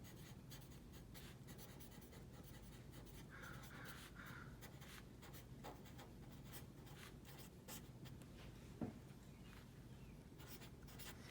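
Pen or marker writing out a math percentage problem, a steady scratching stroke sequence running continuously under a faint room hum, with a brief tap near the end and no talking.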